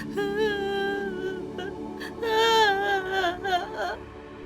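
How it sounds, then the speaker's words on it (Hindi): A young woman cries inside a house in an animated Hindi story, a wavering, sobbing voice rising and falling in pitch, fairly loud and heard alone without other talk. "अंदर से रोने की आवाज क्यों आ रही है?"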